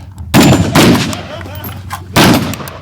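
Rifle shots ring out at a prone shooting match, three loud sharp cracks close by, with the first two quick in succession and the third after a short pause, each trailing off in a brief echo.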